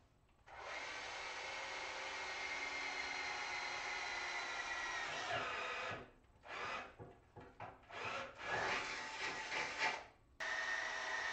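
A power drill bores new mounting holes in a car's engine bay, whining steadily for several seconds, then stopping and restarting in short bursts, close and loud with no talking.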